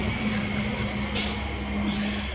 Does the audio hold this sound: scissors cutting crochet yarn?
no